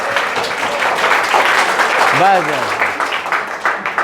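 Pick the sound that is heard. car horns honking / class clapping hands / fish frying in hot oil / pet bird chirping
class clapping hands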